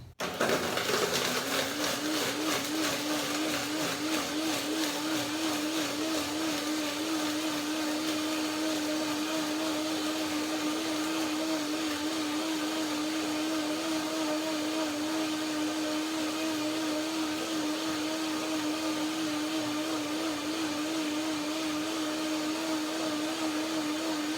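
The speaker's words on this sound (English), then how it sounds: "blend it right away, and then I check if I have to blend it again" A blender runs continuously for a long stretch, a loud, steady, high whirring motor that spins up at the start and holds its pitch.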